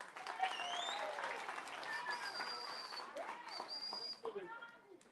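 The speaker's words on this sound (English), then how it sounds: "Another round of applause for Akatendeka." Audience applause after a poem recital at an event on the life story of Job Sikala, with clapping spread across the room, cheerful voices and chatter mixed through the whole stretch.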